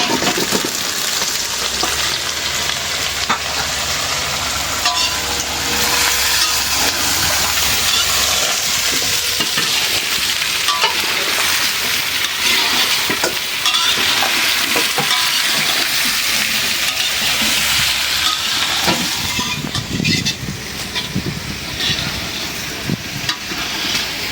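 Potatoes and onions fry together in a pan for a traditional Bengali village dish, a loud, continuous close-up sizzle with occasional scraping and stirring noises.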